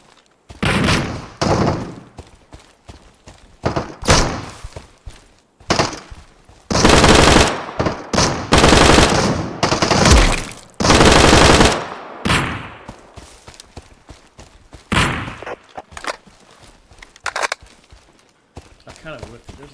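Gunfire from a small rat gun rattles in the Deadside game, with sharp single shots and long sustained automatic bursts, loud and close, while a voice talks over parts of it.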